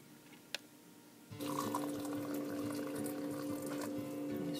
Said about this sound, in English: mix 1 cup Epsom salts and add 4 cups of very hot water together in a bowl